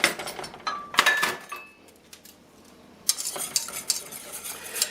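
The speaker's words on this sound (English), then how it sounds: "I think I'll get out my whisk for this one." A whisk scrapes and clinks briskly against a pan as flour is worked in for creamed beef gravy, in two loud bursts of rapid stirring separated by a quieter pause, with no voices.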